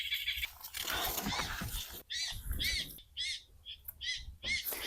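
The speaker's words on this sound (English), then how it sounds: "Actually, no, they're hawk calls. So that birds don't come and eat up all the apples." A recording of hawk calls plays in an apple orchard to keep birds off the fruit: a series of shrill, chirping calls, faint and somewhat distant, repeating in short bursts with no talking.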